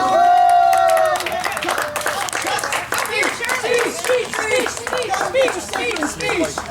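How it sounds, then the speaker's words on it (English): An audience claps for an award runner-up at a season finale gathering, a loose burst of applause that follows a brief held tone and carries on steadily, with voices mixed in among the clapping. "please give a round of applause to Charlie Saletti."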